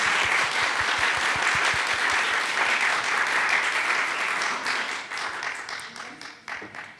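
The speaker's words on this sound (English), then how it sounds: "Please give them a big applause once again." An audience at a peace symposium applauds steadily for several seconds, dense clapping that thins out toward the end, with a voice heard briefly.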